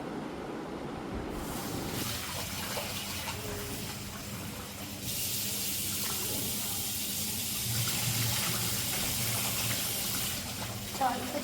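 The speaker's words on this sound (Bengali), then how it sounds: "চালটা ধুয়ে ভাতটা বসিয়ে দিই" Tap water runs steadily into a vessel while rice is washed by hand, a continuous close hiss and splash that grows slightly louder partway through, with faint swishing beneath.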